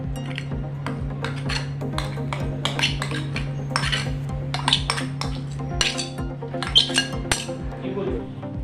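Rice flour and ripe mango being mixed together in a bowl, with repeated clinking and scraping of a utensil against the dish in an irregular rhythm, close up over a steady low background hum.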